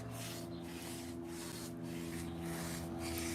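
A brush with soapy water scrubs back and forth across a sanded wooden bar top in steady rhythmic strokes, close and even, over a constant low background hum.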